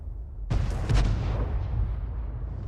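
A 105 leFH18B2 artillery gun fires once in a tank battle game, a single deep heavy boom with a rumbling tail that lingers for about two seconds over low background rumble.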